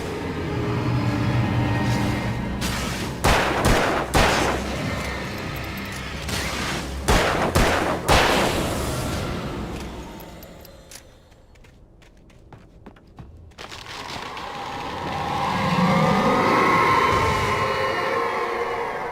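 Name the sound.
gunshots in a video game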